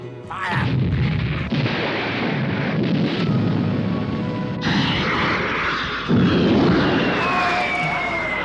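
Heavy cannon fire in an animated film set during Jacques Cartier's voyage to Canada: loud, sustained booming blasts and rumbling across the whole stretch, with a sharper burst near the end.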